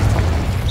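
A Confringo blasting spell explodes in Hogwarts Legacy, a deep booming burst that fills the whole short moment at steady loudness, with a brief higher whoosh near the end.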